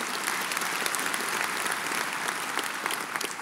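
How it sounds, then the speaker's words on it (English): A church audience breaks into dense, steady applause, many hands clapping together at an even loudness for the whole stretch, with no voices standing out above it. "Let's give a round of applause."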